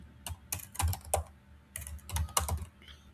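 Keys clatter on a computer keyboard while code is typed for a web page, in two quick bursts of close, crisp clicks separated by a short pause, with no talking.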